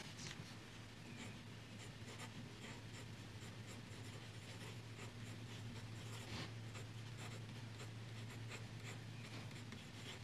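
Plumix fountain pen with a Pilot M nib and Lamy blue ink writing on paper, a soft continuous close scratching of nib strokes with a faint hiss, no talking.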